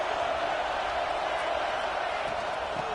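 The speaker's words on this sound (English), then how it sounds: "It's early, but this crowd is fired up. Listen to this noise here." A packed crowd at a college football playoff game, Oregon at Georgia, roars steadily through the whole stretch in a dense, continuous wall of noise.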